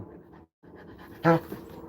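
An Anatolian Shepherd dog pants softly and rhythmically nearby, with a brief louder whimper or yelp near the end, under low background voices.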